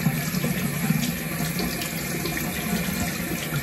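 Water runs steadily from a bathroom sink tap, a continuous rushing stream that holds an even level throughout with no talk over it.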